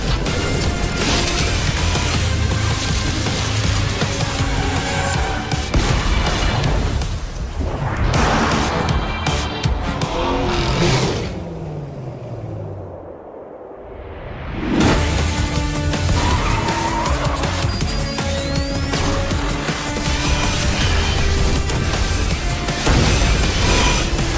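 A bridge collapses in the racing game Split Second Velocity with loud, sustained crashing and rumbling, plus car engine noise and skids. Near the middle the sound dips into a brief whooshing lull, then the heavy roar returns.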